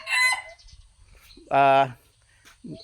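A rooster crows once, loud and close, in a full cock-a-doodle-doo between bursts of someone talking, with other faint bird calls around it.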